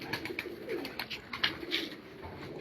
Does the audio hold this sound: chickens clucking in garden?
no